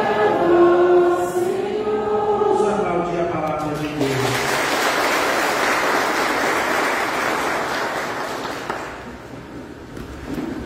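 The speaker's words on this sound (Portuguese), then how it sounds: "Vamos aplaudir a palavra de Deus." Congregation at a Mass for the Dedication of the Lateran Basilica applauds after the reading, with a sung or chanted voice first, then a broad wash of clapping that swells and slowly fades.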